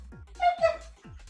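A dog whimpers up close in two brief, high, wavering whines, each following a short soft thump, all within about a second.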